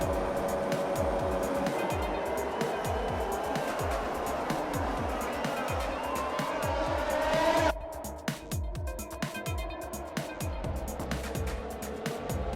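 Race cars at the start of a Singapore race in F1 2020: a dense, loud pack of high-revving engines with some tyre squeal, then the roar drops suddenly to a thinner, more distant engine sound.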